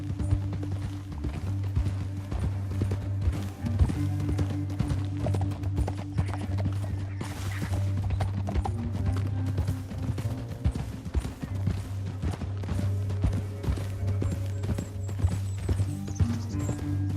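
Horses gallop with a steady clip-clop of hooves across open canyon country in Red Dead Redemption 2, loud and continuous over a low musical drone, with an occasional faint whinny.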